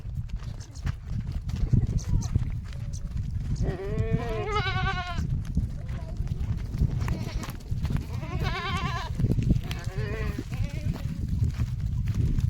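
A herd of goats files along a pond embankment, bleating several times over shuffling hooves, while someone talks nearby.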